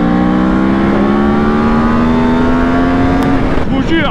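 A Yamaha R1 sport motorcycle pulls hard in third gear at full throttle, its engine note rising steadily for about three and a half seconds before easing off, loud and close throughout.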